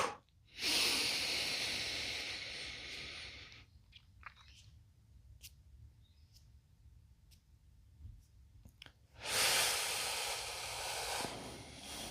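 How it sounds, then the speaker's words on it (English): Deep breaths drawn in through the nose and down into the stomach, a soft airy rush rising at the start, fading to near-silence for several seconds, then a second long loud inhale near the end. "So nice deep breaths into the stomach"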